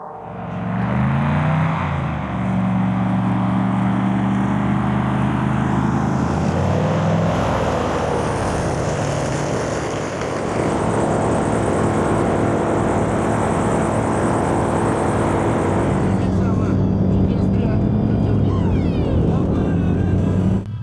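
A deep, loud engine roar swells and holds for a long stretch, rumbling heavily with a shifting pitch as a large machine passes nearby.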